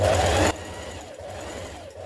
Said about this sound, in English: Now stay stitch round the back neck pieces in the same way.